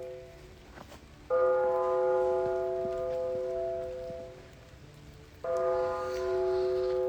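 A deep cathedral bell tolls twice, each loud stroke humming on with a long, resonant sustain.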